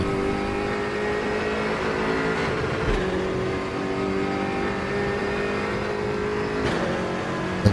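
A race car engine in RaceRoom Racing Experience roars loud and steady, revving high with brief dips at each upshift, the whine holding close throughout.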